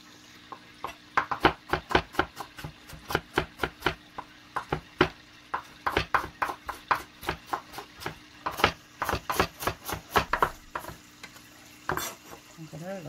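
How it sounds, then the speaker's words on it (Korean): A knife julienning carrot into thin strips for cucumber kimchi taps sharply on a cutting board in a quick, steady run of several dozen close, crisp cuts with brief pauses, and no one speaks. "얇게 채를 쓸 거예요"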